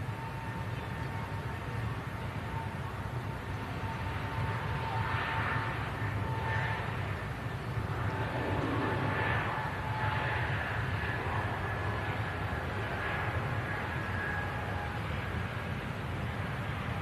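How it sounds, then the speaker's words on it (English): A Scandinavian airliner takes off from Manchester Airport bound for Copenhagen, its engine roar a steady, distant broadband rumble with faint tonal whine that swells slightly mid-way. "Aircraft departing to Copenhagen."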